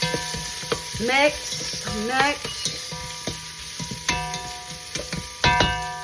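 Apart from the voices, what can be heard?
garlic and ginger sautéing in a pan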